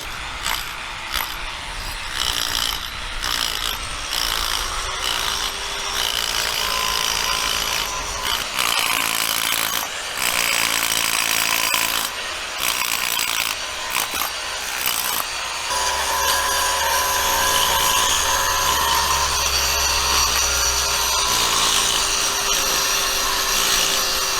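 Power tools grinding and cleaning embedded steel plates during repair of a railway overpass in Kyiv, a dense, continuous mechanical whir with repeated rattling bursts and shifts in pitch, loud and close, with no talk.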